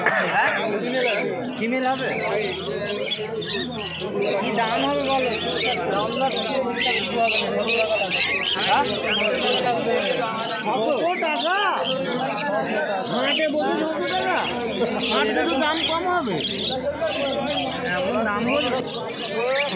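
Cockatiels in cages at the Uluberia pet market give scattered shrill chirps and squawks amid a busy crowd, with people talking close by throughout.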